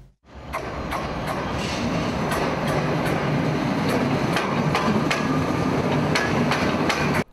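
A festival train carrying spectators rolls along the rails with a steady rumble, punctuated by sharp, regular metallic clacks and bangs from the wheels over track joints, close and loud.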